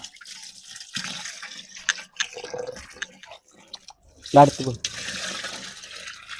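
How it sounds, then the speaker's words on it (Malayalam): Water is poured into a farm mixture of cow dung and other ingredients for treating banana plants, a short splashing pour amid people talking nearby. "ആ പാതി ലേശം വെള്ളം വെച്ചോളൂ"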